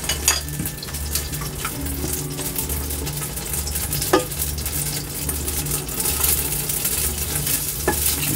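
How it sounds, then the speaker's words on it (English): Ginger and green onion stirred in a little hot oil in a pan, giving a steady sizzle and frying crackle with scraping stir strokes and a few sharp utensil clinks, close and alone. "so putting in the ginger and the green onion"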